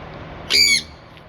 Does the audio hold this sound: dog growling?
no